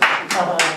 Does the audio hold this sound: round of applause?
yes